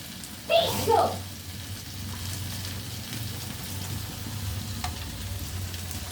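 Hot oil sizzling in a pan while tempering boiled tomato dal, with a loud burst as ingredients hit the oil early on, then a steady low crackle and hiss continuing throughout.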